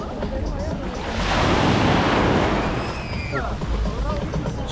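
Sea waves at Ölüdeniz, a broad wash of surf swelling loud in the middle then easing, with wind buffeting the microphone and faint voices in the background.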